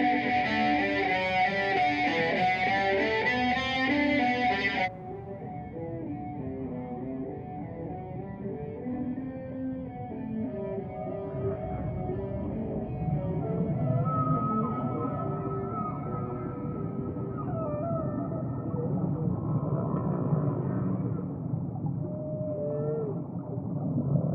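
Bach's Cello Suite No. 1 played on cello through heavy distortion, a continuous thick, buzzing wall of sustained notes with a brighter, harsher opening section before the tone narrows, loud and unbroken throughout with no talking.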